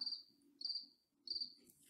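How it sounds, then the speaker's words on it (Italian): Cricket chirps indoors in a house in three bright, evenly spaced trilling bursts, close and clear against a quiet room with faint low background noise. "C'è un grillo qua."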